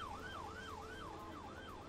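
A wailing emergency vehicle siren in the video game Emergency 4 rises and falls in steady sweeps, sounding close and continuous over a low engine hum, with no talking.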